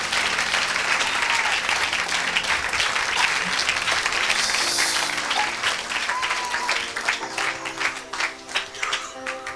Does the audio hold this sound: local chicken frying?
no